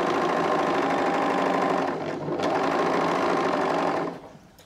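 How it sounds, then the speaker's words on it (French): An overlocker serger sewing machine runs close by with a steady, fast mechanical whir and rattle, briefly dipping before slowing and stopping near the end. "On a bien le bruit de la surjeteuse."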